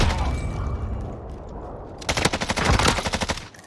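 Rapid automatic gunfire in Call of Duty Warzone, a quieter stretch of game noise and talk, then a loud burst of fast, evenly spaced shots up close for over a second.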